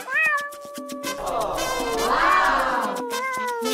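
Four small kittens meow repeatedly, their high, wavering cries overlapping close by, with one drawn-out mewl in the middle.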